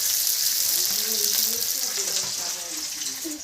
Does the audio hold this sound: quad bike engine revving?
no